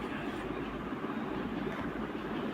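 A train in the Indian Bike Driving 3D video game gives off a steady, dense rumble of rolling wheels and engine noise, constant and moderately loud, with no talking.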